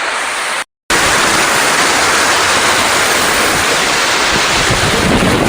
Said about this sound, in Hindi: झरने जो मुझे मंत्रमुग्ध कर चुके हैं, पूरी तरीके से अपने वश में कर चुके हैं।